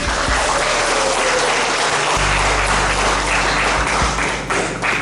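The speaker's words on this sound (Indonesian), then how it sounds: "Berikan aplaus kepada UNICEF." An audience bursts into loud, sustained applause, many hands clapping densely together in an indoor hall at the closing of a literacy and numeracy training event.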